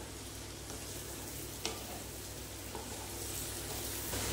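Potatoes and carrots stir-fried with parboiled kidney beans in a pan for rajma polao, giving a steady, close sizzle with light scraping from stirring and a faint click, with no talk throughout.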